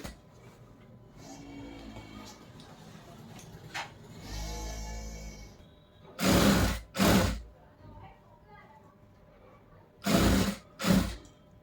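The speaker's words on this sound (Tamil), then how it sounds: "ரெண்டு பக்கமும் அதுக்குள்ள நம்ம தையல் போட்டுடலாம்" Sewing machine stitching a frill on a frock, heard as two pairs of short loud whirring bursts separated by pauses, following quieter handling noise near the start.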